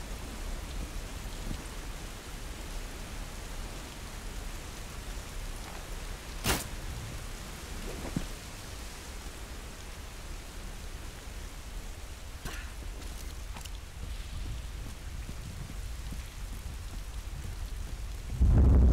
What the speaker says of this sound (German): Bastlastiger Donner, also Sounddesign-technisch braucht sich das Spiel nicht verstecken.